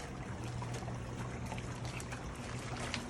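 Water pours and trickles steadily out of an opened evaporative cooler, a continuous close splashing stream with no talk.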